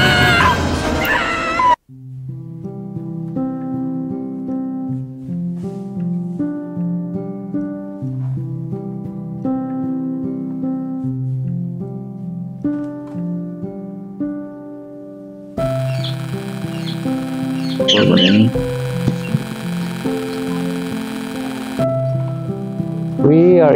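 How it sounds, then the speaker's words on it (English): Many birds call inside an aviary in Timaru, New Zealand, with a steady run of clear tonal whistles and chirps. A louder burst of overlapping calls and noise comes toward the end. "and there's a lot of birds here."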